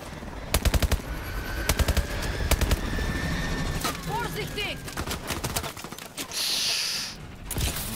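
Rapid bursts of automatic gunfire crackle in the Call of Duty Advanced Warfare video game during a mission in Iraq, loud clustered volleys and scattered single shots, with a voice talking in between.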